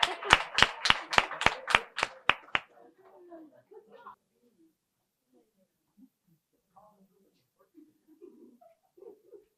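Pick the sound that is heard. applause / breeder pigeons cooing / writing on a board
applause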